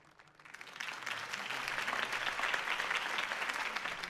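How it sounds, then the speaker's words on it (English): A crowd in the video game Batman: The Telltale Series bursts into applause after a speech, building quickly and holding as a dense, steady clatter of clapping. "could have heard that applause"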